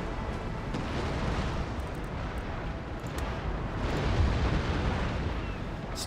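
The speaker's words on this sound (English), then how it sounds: "See if we can get a couple of chain shots into it." Cannon fire of chain shot during a large naval fleet battle in Empire Total War, a dense continuous roar of overlapping booms and rumbling blasts, loud and sustained throughout.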